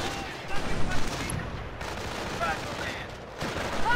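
Bursts of machine gun fire crackle through a busy video game battle, with scattered shots and dull impacts at moderate volume, mixed with other combat noise.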